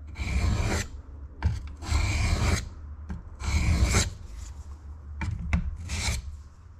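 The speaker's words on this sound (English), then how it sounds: "let's gain out this little mortise. What I can say is keep your chisel sharp" A sharp chisel pares out a small hinge mortise in wood aboard a wooden boat, making several scraping strokes separated by pauses, with a few short clicks between them.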